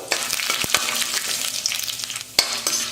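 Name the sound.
roasting chana dal, urad dal and cashews in pan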